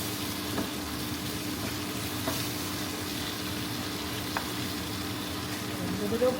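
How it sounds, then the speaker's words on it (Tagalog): Tomatoes and ginger sauté in a hot pan for a home-cooked Filipino pork dish, giving a steady, close sizzle and crackle throughout with a few faint utensil clicks. "gisang-gisang yung kamatis"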